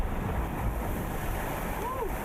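Ocean waves stirred by approaching Hurricane Ian at the southernmost point of the Florida Keys roar continuously with steady surf wash and wind buffeting, with no talk.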